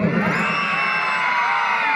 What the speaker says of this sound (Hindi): ग्रीन हाउस चिल्ला के बताओ